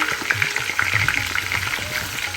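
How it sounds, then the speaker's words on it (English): Big chunks of lamb brown in a hot pan, giving a loud, close, unbroken sizzle with bright spitting crackles throughout and no talking. "been browning this meat for close to 5 minutes because these are big chunk of meat"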